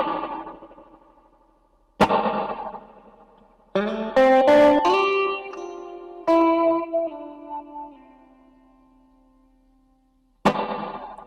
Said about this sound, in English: So you can hear the reverb is working.